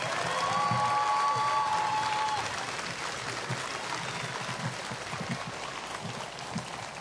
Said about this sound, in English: Audience, please join me in applauding all of these candidates and veterans one more time for their accomplishments